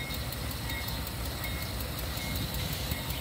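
A southbound CSX freight train rolls along the tracks in Aberdeen, North Carolina, a steady continuous rumble with broadband rail noise holding evenly throughout, fairly close and unbroken, with no voices.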